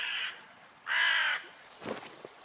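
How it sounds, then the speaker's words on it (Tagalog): Two loud, harsh crow caws from a pet bird, each lasting about half a second with a gap between, followed by fainter rustling and a couple of soft clicks; no talking. "Ang galing ng mga alagang ibon ni Lola nagsasalita."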